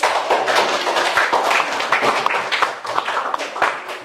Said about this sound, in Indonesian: Ya, berikan aplaus untuk semua ya.